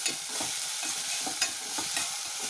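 Sliced onions sizzle in hot oil with salt and turmeric while a spoon scrapes and stirs them in steady strokes, a close, constant frying hiss with no voices, as they cook for a beans and cauliflower curry.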